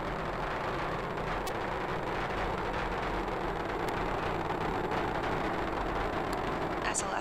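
The SLS rocket carrying Artemis 1 roars in flight about thirty seconds after launch, a steady, distant broadband rumble with faint crackle that holds throughout.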